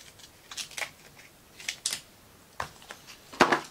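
Scissors snip through double-sided tape in several short bursts of crisp cutting clicks, close up and fairly loud, with quiet pauses between groups of snips.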